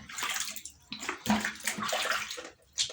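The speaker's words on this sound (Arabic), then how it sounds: "اغسلها كده بميه دافيه حلوه كده" Raw tripe is washed and rubbed in warm water, giving close, irregular splashing and sloshing in uneven bursts.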